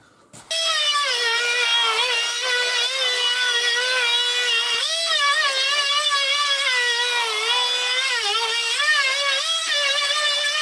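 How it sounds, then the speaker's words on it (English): A power sander running over the varnished top of a wooden workshop bench, starting abruptly and then holding a loud, steady whine with a slightly wavering pitch as it moves across the surface. "a quick blast over with the sander and then another coat"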